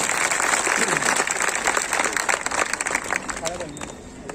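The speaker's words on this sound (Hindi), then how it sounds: "ताली बजा के आशीर्वाद दें" A crowd of mill workers gathered with a cabinet minister in Indore claps together, a dense rushing applause mixed with voices that thins and fades near the end.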